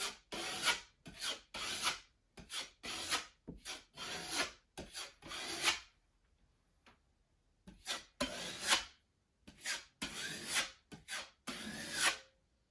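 A putty knife spreads and wipes joint compound across a drywall patch, making repeated scraping, rasping strokes in bursts with short pauses, close and fairly loud with no talking.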